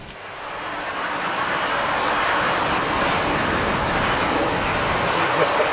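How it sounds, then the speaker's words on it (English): A steady, loud jet engine roar from an MB-339A in the flight simulator DCS builds up within the first second and holds a broad, continuous whine and rush to the end, with no talking. "That's my engine running."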